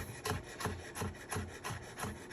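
Rapid rhythmic knife strokes finely chopping jalapenos on a cutting board, about a dozen even chops in quick succession, close and fairly quiet.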